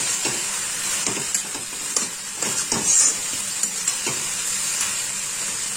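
Ghee-fried Gobindobhog rice stirred into a hot pan of banana flower (mocha): continuous close sizzling and hissing, broken by regular scraping strokes of the spoon.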